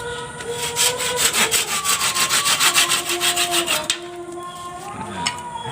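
Handsaw cutting a wooden plank to length, a quick run of rhythmic back-and-forth rasping strokes, close and loud, ending as the cut finishes, followed by a few light knocks.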